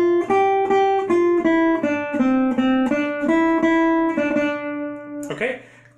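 A plucked guitar plays a simple single-note Beethoven theme with no accompaniment, evenly spaced notes ringing close, ending with a brief rustle.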